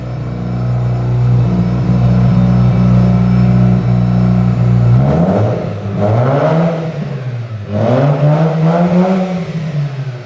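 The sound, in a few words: BMW E30 straight-pipe engine revving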